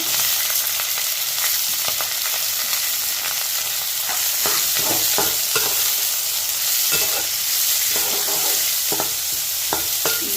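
Green chillies and onions frying in a pan, a steady loud sizzle throughout with scattered stirring scrapes and crackles, close up.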